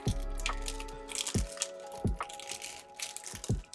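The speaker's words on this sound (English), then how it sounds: "This hard plastic bag is very easy to open up." A hard plastic bag of Gundam LIVELANCE HEAVEN model parts is opened up close with sharp crackles and crinkling crunches in several bursts, with no talk.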